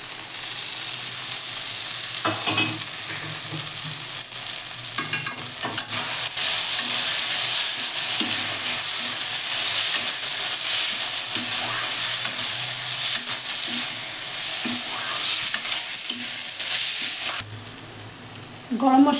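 Prawns, already fried, sizzle steadily with taro flowers in spices while a spatula scrapes and stirs through them in the pan. The frying runs continuously from start to finish, with no talking.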